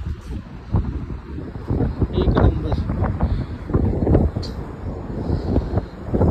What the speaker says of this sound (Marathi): काय वारा सुटलाय बाई.